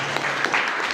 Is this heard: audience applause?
yes